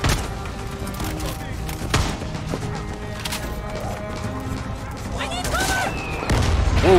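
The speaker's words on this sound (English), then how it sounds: "Oh, they have mortars." Mortar fire lands in the Far Cry 6 video game amid a busy battle, with repeated booms and crashing impacts over gunfire and game effects, loudest near the start and the end.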